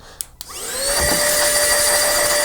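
An Aspiring Gale cordless vacuum cleaner used as an air blower whirs up from a couple of clicks into a loud, steady high-pitched whine and rushing airflow, close by.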